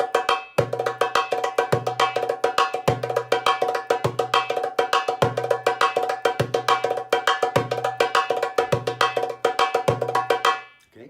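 A hand drum beats out the maqsoum rhythm, sharp bright tak strokes in quick repeating patterns punctuated by deeper low strikes, steady and close with no talking over it.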